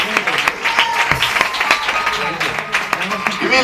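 Loud applause from a church congregation for the Lord, dense clapping sustained throughout with a few louder claps standing out.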